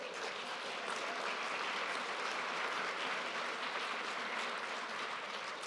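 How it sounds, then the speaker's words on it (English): An audience applauds inside a church during a Unitarian Universalist worship service: steady, dense clapping from many hands that holds at an even level throughout, with no voices over it. "you can applaud for that too"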